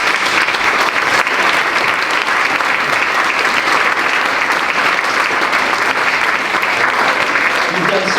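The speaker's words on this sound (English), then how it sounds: "Big round of applause." Sustained audience applause at a middle and high school strings concert, a dense, loud, even roar of many hands clapping in a large room, continuing steadily for several seconds.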